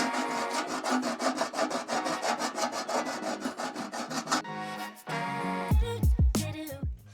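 A metal panel for a Jaguar Lindner Nöcker rolled back and forth through an English wheel at low pressure, a fast, even series of close rasping strokes, then a pause and a few slower, heavier passes.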